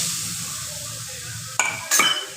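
Grated carrots starting to cook in a little ghee for carrot halwa, a soft low sizzle followed by two sharp clinks of a utensil against the pan near the end.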